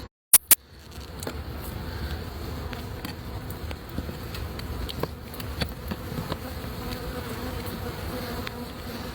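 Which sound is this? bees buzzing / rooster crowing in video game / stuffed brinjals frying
bees buzzing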